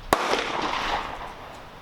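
A single sharp gunshot from a Savage Model 24 combination gun, chambered in .30-30 over 12 gauge, fired outdoors at a range; one loud crack followed by a long, washy echo and rumble.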